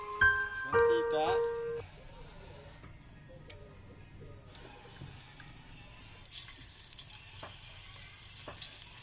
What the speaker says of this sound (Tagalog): Nagpiprito tayo.